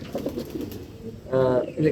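A racing pigeon in a loft gives soft low cooing, a short murmuring call near the end rising clearly above quiet background rustle, close to the microphone.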